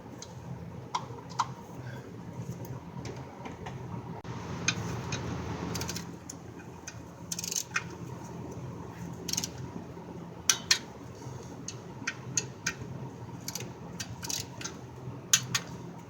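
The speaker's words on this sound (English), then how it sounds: "we're gonna lock the motor up and torque all of them down" Torque wrench tightening engine bolts while installing a clutch and slave cylinder on a 2010 Nissan Altima, heard as scattered sharp metallic clicks and ratchet ticks over faint workshop rumble, irregularly spaced and moderately close.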